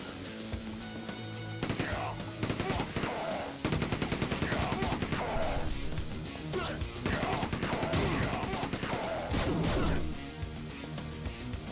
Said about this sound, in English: let's try the submachine gun